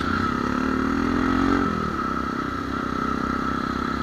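Denali 300 motorcycle engine running steadily at a smooth idle-to-mid rev, a close continuous drone with a slight rise and fall in pitch partway through, heard alone without talk.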